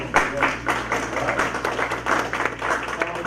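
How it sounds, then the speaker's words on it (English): Scattered applause from a small group at a school board work session, uneven clapping of moderate loudness over a low room hum, with no one speaking. "I'll say give a round of applause."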